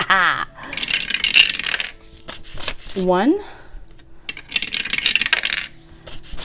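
Dice rolled by hand during a cash-stuffing savings challenge game clatter in short bursts across a tabletop, with a voice speaking briefly.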